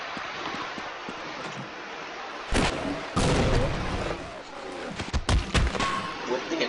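MP5 submachine gun fire in the game Codename 2001 comes in loud bursts of rapid shots separated by short pauses, over a low ambient background while a voice talks now and then.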